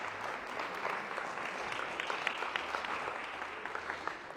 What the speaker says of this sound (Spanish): Deme un aplauso al Señor